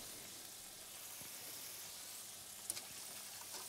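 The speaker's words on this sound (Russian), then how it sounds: "фарш жарится" Minced meat fries in a pan for a Greek moussaka, a faint, steady hiss and sizzle with occasional small pops, quiet and continuous with no voices.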